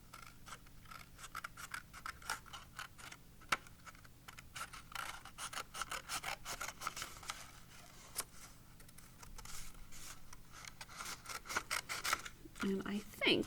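Scissors trimming paper for a hand print dot tree craft make quick, close, crisp snipping clicks in uneven bursts, quiet and dry, with a soft voice talking now and then.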